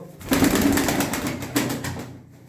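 Pigeons at an evening bird auction in Şenyurt, Mardin, give a few close, repeated low coos that carry steadily across the clip, with faint background murmur.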